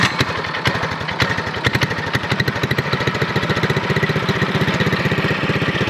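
A Coleman mini bike's small engine runs steadily close by, its rapid regular firing pulses forming a continuous loud putter with no talking over it.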